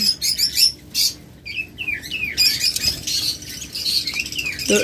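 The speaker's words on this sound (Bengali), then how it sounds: "লাল মাথা রেড আই পাখি।" Red-headed red-eye birds in cages chirp and tweet constantly, with bright overlapping calls and short whistled notes, close and fairly loud, with no talk.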